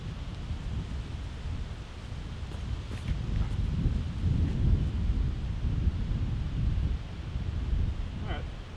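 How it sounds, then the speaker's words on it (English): Strong wind rumbles against the microphone in low, surging gusts, swelling louder in the middle, while someone talks faintly underneath. "It is crazy windy right now"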